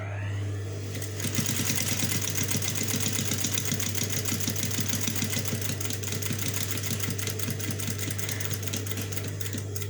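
A sewing machine stitches a fabric lunch bag, running in a fast, steady, continuous mechanical rattle over a low hum after a brief quieter start.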